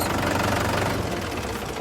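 A tractor's diesel engine runs close by with a loud, steady knocking chug and no voices over it.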